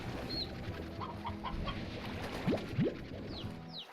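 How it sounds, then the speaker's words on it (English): Chickens in the video game Slime Rancher cluck in short, quiet bursts, with chirpy game effects and rising swoosh tones mixed in. "there's chickens over there waiting for me"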